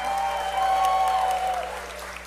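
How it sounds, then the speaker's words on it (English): Applause at a puppet cabaret show at Lynx Hall, a crowd clapping steadily and fairly loudly for a couple of seconds, with a faint tone lingering underneath. "So let's give them a big round of applause"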